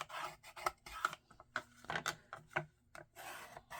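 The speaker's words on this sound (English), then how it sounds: "we need the bone folder. We need to give it a little rub down." A bone folder rubbed down over paper in a card-making craft, giving a series of dry, scratchy rubbing strokes in an uneven rhythm, close and quiet, with no voices.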